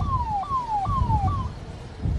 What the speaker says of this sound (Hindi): ये देखिए सायरन की आवाज लगातार हम आपको सुनवा रहे हैं।